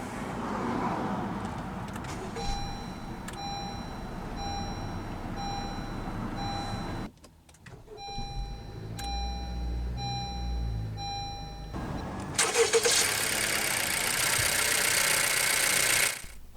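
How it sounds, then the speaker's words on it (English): A 2018 Honda CR-V EX-L with AWD and push-button ignition, starting up and then idling with a steady low engine hum, accompanied by a few evenly spaced chime tones, followed by a louder broadband rush toward the end. "let's go ahead and start the engine. And it does have push-button ignition."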